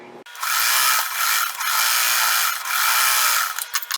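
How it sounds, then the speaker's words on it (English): A sewing machine stitches an outer fabric to an inner fabric for a quilted tote bag, whirring loudly and close in about three sustained runs. Each run is separated by brief slowdowns, and the machine stops abruptly at the end. "I'm going to sew one of the outside fabrics to one of the inside fabrics"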